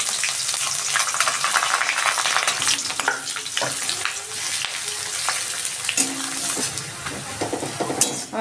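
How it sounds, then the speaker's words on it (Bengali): Chopped onion fries in mustard oil with dried chilli, cardamom, cinnamon and bay leaf in a pan, giving a loud continuous sizzle with occasional stirring scrapes and light clinks of a utensil. "আমার পেঁয়াজটা ভাজা হয়ে গেছে"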